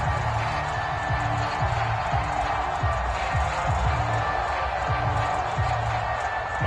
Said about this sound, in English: this crowd loves it as their guys hold on the opening drive